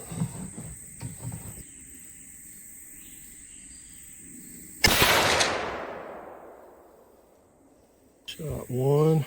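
Single loud rifle shot from a Savage 110 VSX in 6.5 Creedmoor at a range, a sharp crack followed by a long decaying rumble, with people talking before and after.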